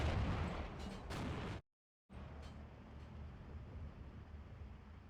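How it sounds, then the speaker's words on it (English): An artillery barrage in the Steel Division II strategy video game rumbles as a dense, continuous roar of gunfire and blasts, cutting out briefly to silence before resuming at a steady level. "Just a nice little line of artillery barrage."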